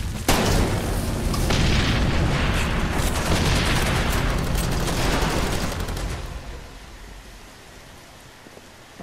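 Gunfire in the video game Far Cry 2, a long, loud wash of rapid shots and booming blasts that gradually fades toward the end, with no voices.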